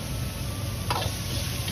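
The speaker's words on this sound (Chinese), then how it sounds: "接着倒入杏鲍菇煸炒。" King oyster mushrooms stir-frying in a wok in oil, a steady soft sizzle with a brief scrape of a spatula partway through, close and moderately quiet.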